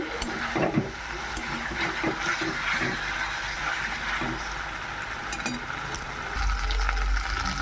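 Boiled, pre-fried eggs fry in a spice masala for egg curry, giving a continuous sizzle with scraping stirs and occasional clatters, close and fairly loud, without talk.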